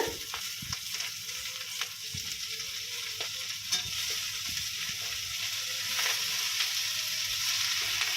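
Potato, shrimp and leafy greens fry together in a pan with a continuous close sizzle, while a spatula stirs with intermittent scraping strokes, louder toward the end.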